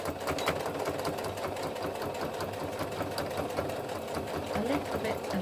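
Domestic sewing machine basting fabric pieces for a bag within the seam allowance, a continuous fast rattling hum at moderate volume, steady throughout with no pauses.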